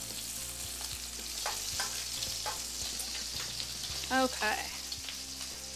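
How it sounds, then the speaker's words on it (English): Bacon strips fry in a pan with a steady, dense sizzle and crackle, broken by a few scraping clatters as the pieces are turned over; a voice briefly speaks one word over the frying. "All right, let's just flip the bacon."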